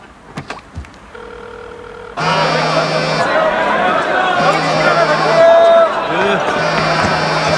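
A telephone rings repeatedly in evenly spaced bursts with nobody picking up, loud and close, over a busy room with people talking and calling out in the background.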